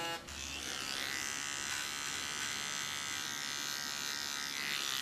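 A small electric hair clipper trims the contour of short hair, buzzing steadily and close for several seconds with no talking.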